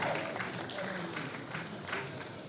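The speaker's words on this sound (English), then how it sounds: "A round of applause for us." An audience applauds at a talk on moving from academia to industry. The clapping is faint, dense and steady and lasts the whole short stretch.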